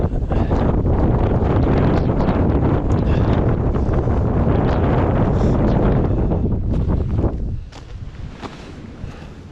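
Strong wind buffets the microphone on a wintry mountain ridge between Mt. Mizugaki and Mt. Kobushi, a loud, continuous roar that eases slightly near the end.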